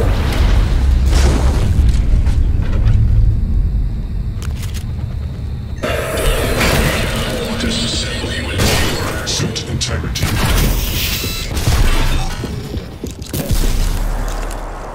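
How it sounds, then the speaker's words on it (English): A Kinetic Blast power detonating in the video game Prey, a loud booming burst followed by a sustained roar and further rumbling, heavy thuds layered throughout. "they're going to combine Mimic with Kinetic Blast"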